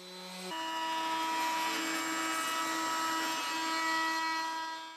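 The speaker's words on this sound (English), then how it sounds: "The key to good sanding is sanding with the grain and not putting too much pressure on the sander." An electric sander works wood on a portable workbench with a steady, loud whirring drone that starts abruptly and holds nearly unbroken for several seconds, with no voices over it.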